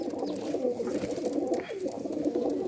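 Domestic breeder pigeons coo in low, throaty, rolling calls that overlap continuously and close by for the whole stretch, with no talking.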